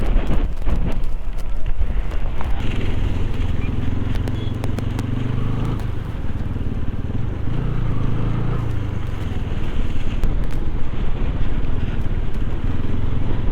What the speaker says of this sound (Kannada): ಏನು ಗಾಳಿ ಹೊಡಿತಾ ಇದೆ ಗುರು